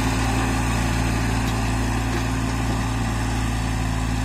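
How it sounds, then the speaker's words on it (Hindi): A Sonalika DI 35 tractor pulling a harrow through mud drones loudly and steadily up close, its engine holding a constant, even hum throughout with no talking. "देख सकते हैं आप कीचड़ में कैसे चल रहा है ट्रैक्टर"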